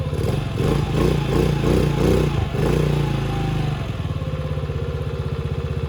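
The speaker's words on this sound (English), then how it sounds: "So that's it, sitting there idling." A Venom X15 motorcycle engine idles steadily and close by just after starting with the choke off, a chugging, even putter that settles into a regular rhythm with no talk over it.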